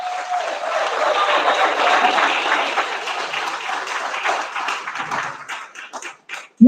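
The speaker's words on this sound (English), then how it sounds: "let's give you a round of applause" An audience at a Free National Movement candidates' ratification rally in Abaco breaks into loud, sustained applause and clapping that swells and then gradually thins out toward the end.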